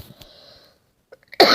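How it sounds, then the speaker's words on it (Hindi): A single sharp cough bursts out at the end, preceded by a brief breath and a faint hum, with no talking. "अभी भी खांसी है"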